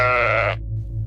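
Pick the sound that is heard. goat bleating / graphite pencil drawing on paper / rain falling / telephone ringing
goat bleating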